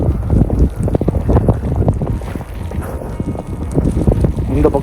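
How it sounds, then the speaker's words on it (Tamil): Harsh, loud wind buffets the microphone during a Canadian snowstorm, a continuous roaring rumble with gusty surges throughout and no clear speech. "இந்த பக்கம் காற்று ஃபுல்லாக."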